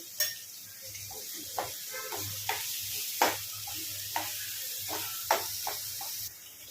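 Chicken pieces go into a hot pan for chicken curry with jeera rice, setting off a steady hiss of sizzling oil punctuated by sharp clinks and scrapes of a spoon against the pan.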